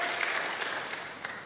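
A church congregation claps together in a brief, continuous burst of applause, moderately distant and even, with no voices rising above it.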